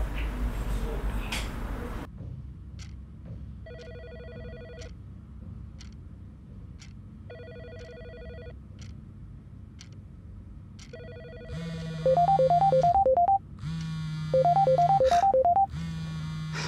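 An outgoing call rings on a telephone: a brief burst of noise, then evenly spaced electronic ringback tones repeating several times, followed by louder, buzzier ringtone bursts with warbling chirps near the end, no talking.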